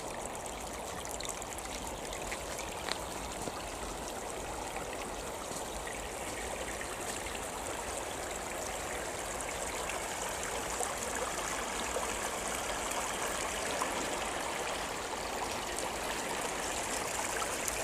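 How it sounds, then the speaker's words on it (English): A stream's rushing water fills the scene with a constant, broad, even wash of splashing and trickling, steady and close, with no voices over it. "That's a cool sound, the rushing water."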